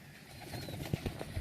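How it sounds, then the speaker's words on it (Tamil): Homing pigeons in a coop give a few soft, low coos near the end, over a quiet background hiss, with no talking. "நல்ல மெயில் புறா தான்."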